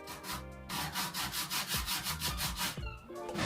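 A file scrapes the burr off the edges of a steel card scraper in quick, rhythmic back-and-forth strokes, about a dozen close, fairly quiet rasps in a steady cadence.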